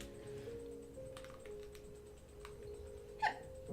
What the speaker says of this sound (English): Ugh, hiccups.